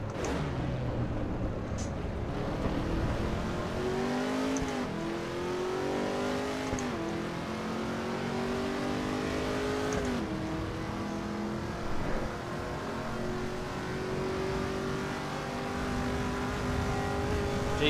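Race car engine in the Assetto Corsa EVO racing game, revving hard and dropping through gears with repeated pitch swoops as it downshifts, loud and continuous throughout with no talking.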